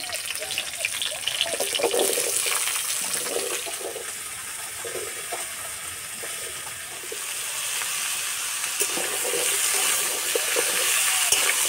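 Vegetables frying in hot oil with whole cumin seeds and green chillies, a steady broad hiss and crackle with a wet gushing texture, continuous and fairly loud throughout.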